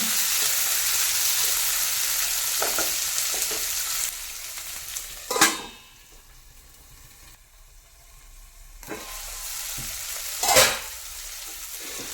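Chopped tomatoes fry in a pan, giving a steady sizzle with a few louder scraping stirs; the sizzle drops off for a while near the middle, then returns.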